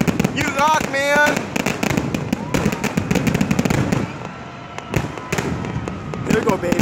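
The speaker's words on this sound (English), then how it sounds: "Fucking fireworks." Fireworks from a casino display in Schenectady burst in dense, loud crackling volleys with sharp pops and whistling rockets, and excited voices talk and shout over the show.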